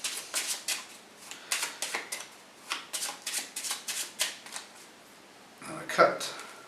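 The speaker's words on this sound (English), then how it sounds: "Then I'll just give them a shuffle." A deck of playing cards is shuffled during a card trick, giving a rapid run of crisp riffling bursts in an even rhythm, close and clear, ending with a sharper snap as the cards settle.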